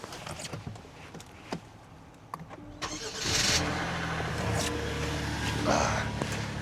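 A car engine cranks briefly and catches, then settles into a steady running rumble; a few clicks and light handling noises come before it.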